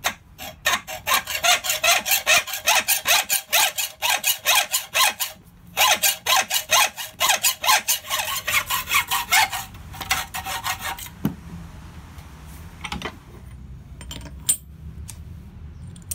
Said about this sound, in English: I hit the pieces quickly with an angle grinder with a flap disc